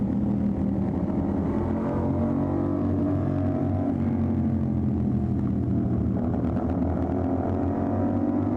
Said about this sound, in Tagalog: Tunog ng motor niya.